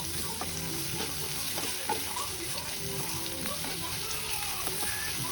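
Onions and a bay leaf frying in a pan for butter egg gravy, stirred steadily, giving a continuous close sizzle with scattered scraping taps and faint background noise.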